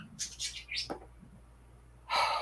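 A few short, high chirps and tweets from small birds close by, with a breathy snort in between and a burst of noise at the end.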